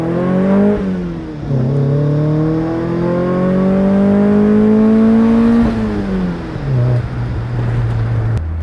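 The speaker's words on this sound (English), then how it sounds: "we have an exhaust that sounds like this" A 1996 Mazda MX-5's exhaust revs up and down through a few throttle blips, a deep throaty growl rising in pitch, dropping, then settling into a low rumble.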